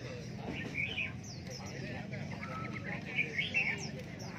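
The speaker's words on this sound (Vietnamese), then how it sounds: "hôm nay trên này khá nhiều chim rồi nhỉ" Caged birds at a Vietnamese ornamental bird market chirp and tweet in short bursts at moderate distance over a low murmur of market background.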